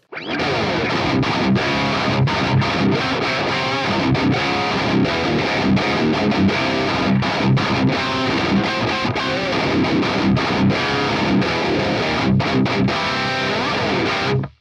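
A heavily distorted electric guitar plays chugging riffs continuously, loud and close, with no voices; dry tone before a Way Huge Swollen Pickle MKII fuzz pedal is engaged.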